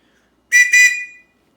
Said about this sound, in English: It's an orange whistle.